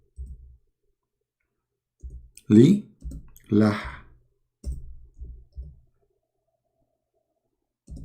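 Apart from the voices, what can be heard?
typing on a keyboard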